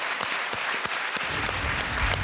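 Studio audience applause on a Hindi quiz show set, a steady broad wash of many hands clapping with no talk over it.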